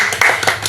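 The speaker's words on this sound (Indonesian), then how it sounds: "beri tepuk tangan untuk kita semua." A brief burst of hand clapping from a class of children, steady and moderately loud, with no voices.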